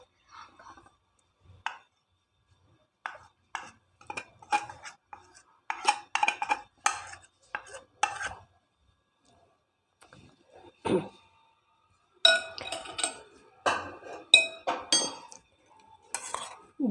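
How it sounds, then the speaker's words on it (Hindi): A spoon scrapes and clinks around a bowl as spices and cornflour are mixed into a chicken mixture, in irregular bursts of metallic taps and stirring, close and clear with quiet gaps between. "सब चीज़ों को बीच में मिक्स कर देंगे।"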